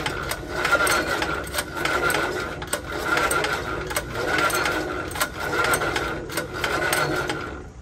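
A small personal rice threshing machine's new engine runs with a rapid mechanical clatter and rhythmic ticking, fairly close, steady throughout with faint voices in the background.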